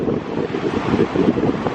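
Sea waves wash by a pier at Aberystwyth, a continuous rushing surf mixed with strong wind buffeting the microphone, loud and close.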